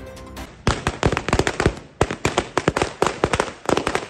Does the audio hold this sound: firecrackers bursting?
yes